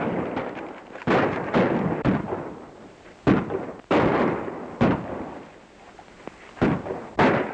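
Repeated gunshots ring out in a Western shootout on a trail, about ten sharp cracks at irregular intervals, some loud and close, others quicker and overlapping, each trailing into a short echoing decay.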